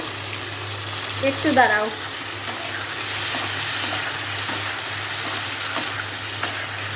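Food is stirred and fried in a pan with a continuous close sizzle and occasional soft scrapes, while a voice speaks briefly near the start.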